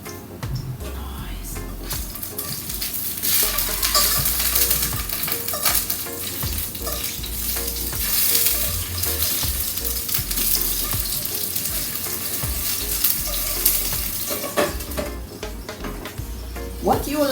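Green plantain slices frying in a pan of hot oil give a dense, continuous sizzle and crackle, with occasional stirring clatter and scraping close by.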